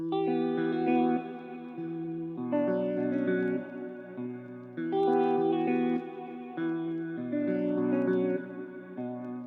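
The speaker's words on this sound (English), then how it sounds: "this is how it sounds with all the effects added" Electric guitar run through saturation, EQ and other effects plays a looping melodic phrase for a trap beat, thick and washy with chorus-like shimmer and echo, sustained without gaps.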